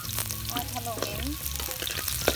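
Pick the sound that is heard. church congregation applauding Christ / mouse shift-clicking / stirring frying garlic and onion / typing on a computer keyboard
stirring frying garlic and onion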